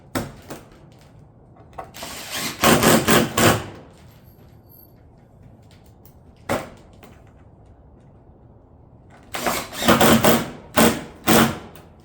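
Fasteners are driven through metal ridge panels into barrel-vault tile battens, producing short bursts of loud, buzzing driver noise, two clusters of several quick runs with a single brief burst between them and quiet pauses around them.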